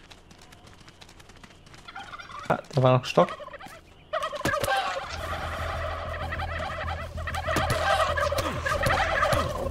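Turkeys in the video game How to Survive 2, loud gobbling calls rising in bursts and then a dense chorus of several birds, with a brief spoken remark in German over them.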